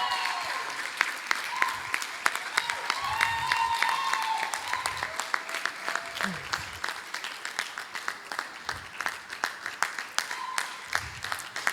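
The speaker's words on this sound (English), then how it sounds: "Please keep clapping" An audience at a business outlook and alumni general meeting claps steadily as a guest is welcomed on stage. Dense, sustained applause continues throughout, with voices talking over it.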